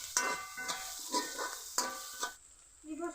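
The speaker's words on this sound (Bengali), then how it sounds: "একটু ভাজা ভাজা করে নিব।" Spices and grated onion fry in a pan, a close hiss with a few spatula stirs. The sizzle drops away near the end, leaving a quieter tail.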